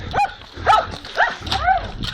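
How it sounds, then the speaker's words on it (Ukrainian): Hunting laika dogs barking during field training, four sharp, close barks in quick succession with brief pauses between them. "Але бачите, як собаки працюють."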